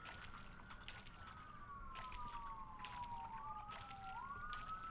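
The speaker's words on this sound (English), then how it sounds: "Oh, more sirens." A siren wails steadily with falling and rising pitch sweeps, passing at a moderate distance over a low background hum, in the video game Coral Island.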